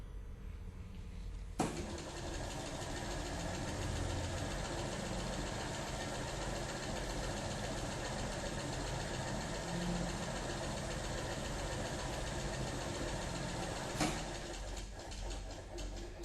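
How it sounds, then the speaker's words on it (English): An electric motor on a GAP Power magnetic neutralization device runs under no load with a steady, even hum for the whole stretch, marked by a sharp click near the start and another near the end. "The motor will be running under no load."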